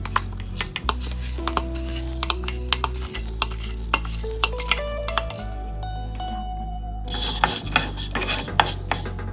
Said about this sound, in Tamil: அதுக்கப்புறம் நான் எடுத்து வச்சுருக்க வெந்தயத்தை போட்டு வறுக்க போகிறேன்